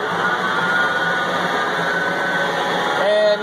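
A Moore #3 jig borer spindle runs at high speed, near 1,800 RPM, giving a steady, close whine that holds without a break, with a faint tonal shift near the end.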